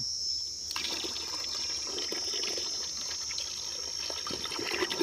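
A tap opens on a farm drip-irrigation setup for paddy and the water starts to flow, rising from quiet into a steady rushing stream with a faint high whine above it.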